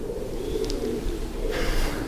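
Pigeons coo faintly from high up inside a large wooden grain bin, a low murmuring drone that continues steadily, with a little rustling partway through.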